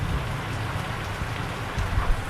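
A downpour of heavy rain hisses and patters continuously on surfaces, close and steady throughout with no talking.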